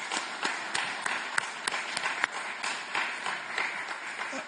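Steady applause from a crowd at an Indian community gathering in Spain welcoming a political delegation, many overlapping claps forming a dense, moderately loud wash for the full length.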